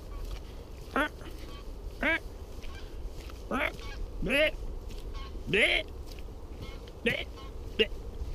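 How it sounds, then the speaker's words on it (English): Geese fly overhead and give about eight separate honks at irregular intervals. The calls are moderately distant and clear over low outdoor background noise near water. "There's a few geese flying around."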